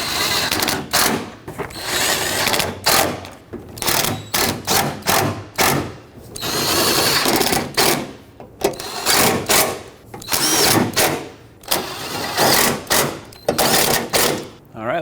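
Battery tray bolts on a 2007-2014 Chevrolet Silverado 2500HD snugged down with a ratchet or drill, giving loud bursts of mechanical whirring and clicking with thumps, interrupted by short gaps and someone talking.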